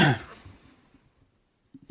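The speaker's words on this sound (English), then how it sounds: "Sorry, I just had to clear my throat." A single throat clearing, close and sharp at the start, fading quickly into quiet with a couple of soft low sounds after.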